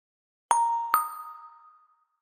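A quiz-show correct-answer chime sounds as two bright bell-like dings in quick succession, clean and close, ringing out and fading over about a second.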